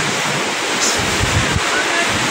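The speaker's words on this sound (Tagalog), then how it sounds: "Tingnan nyo naman po yung dagat. Hanggang ngayon nangangalit pa rin." Rough sea surf roars steadily in a typhoon at Manila Bay, Navotas, with strong wind buffeting the microphone throughout.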